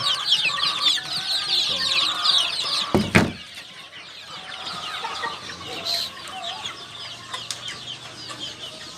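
Many day-old chicks, including Rhode Island chicks, and hens cluck and peep steadily at close range, with a brief rustle or thump partway through.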